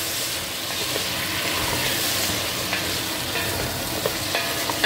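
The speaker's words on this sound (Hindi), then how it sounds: "अब इसमें आलू डाल देते हैं। एक से दो मिनट तक भून लें।" Potatoes fry with turmeric in a pan for an aloo baingan curry, a loud, dense, continuous close sizzle with a few faint stirring scrapes.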